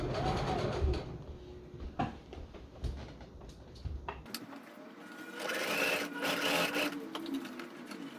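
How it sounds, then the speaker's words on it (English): Sewing machine stitching fabric for a DIY boat cover on a mini boat, running in steady bursts with short pauses, close and fairly loud throughout, with no talking. "Let's sew."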